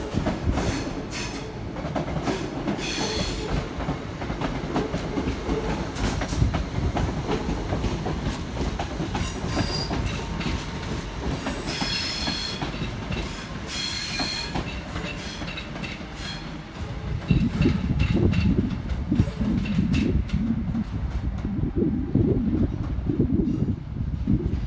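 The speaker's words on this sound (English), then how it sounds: "departing now is 319379 on its way to Manchester Piccadilly" Electric unit 319379 pulls out of Crewe station on the West Coast Main Line, bound for Manchester Piccadilly: a loud, steady rumble and clatter of wheels with high metallic hiss, swelling louder toward the end, and no talking.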